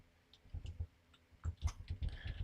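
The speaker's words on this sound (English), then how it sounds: "I'm typing this in, so whenever I click enter, it just sends" Keyboard typing during an online Discord Dungeons and Dragons session: close, sparse, irregular keystroke clicks in small bursts, getting busier toward the end, with no voices.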